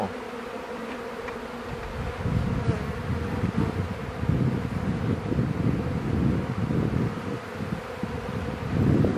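Honey bees buzz around an open hive while frames are handled, a dense swelling drone close to the microphone with some wind noise, growing louder after the first couple of seconds.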